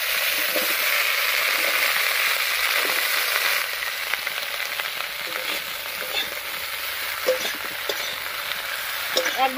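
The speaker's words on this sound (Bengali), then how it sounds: "পেঁয়াজ কুলি আর বেগুনটা ভেজে নেবো এই তেলের মধ্যে।" Onion stalks and eggplant frying in hot oil give a steady, close sizzle with stirring clatter, loud at first and easing slightly partway through, with occasional scrapes of the spatula.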